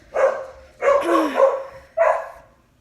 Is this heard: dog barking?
yes